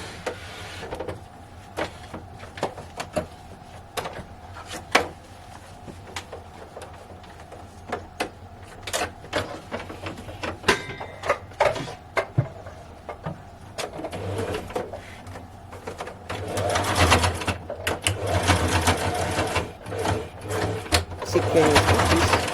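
A sewing machine stitches a cloth face mask in short bursts of rapid mechanical whirring, separated by pauses and soft handling clicks, with a person talking at points throughout.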